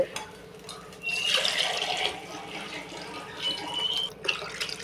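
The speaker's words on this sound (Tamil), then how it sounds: "இப்போ தண்ணியை கொஞ்சம் கொஞ்சமாக நம்ம ஊற்றிக்கலாம்" Water splashes and gurgles into a pot in two short bursts while making vegetable biryani, the pitch rising slightly as it fills, with quiet pauses between pours.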